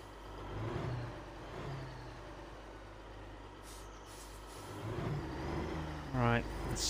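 Air brake hiss from a big rig in a trucking video game set on Alaskan roads, heard as a short sharp burst near the end over a low idling diesel rumble, with someone talking throughout.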